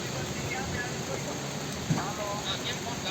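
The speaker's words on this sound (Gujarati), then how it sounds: "તમને દેખાડે નહીં પણ ખૂબ જ વરસાદ આવે છે જો" Heavy rain pours down in a dense, continuous hiss and patter that fills the scene, with a voice talking briefly over the downpour.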